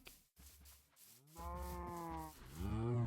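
Minecraft cows moo in long, drawn-out lows, one after another, with a scraping, rubbing noise early on and no voices.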